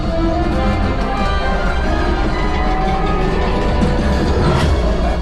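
Train-like rumble and rattle on the Star Wars: Rise of the Resistance ride at Disneyland during a mission scene, loud and continuous throughout with dense rolling clatter and no pauses.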